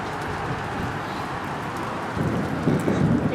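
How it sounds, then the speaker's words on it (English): Heavy rain pours steadily during a summer thunderstorm, a dense continuous hiss that swells slightly louder near the end, with faint low rumbling beneath and no talking. "the rain coming down."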